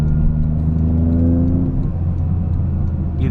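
A Toyota GR Corolla with an MBRP aftermarket exhaust revs up, the engine note rising in pitch over about a second and a half then falling back to a deep rumble, loud and close with no talking.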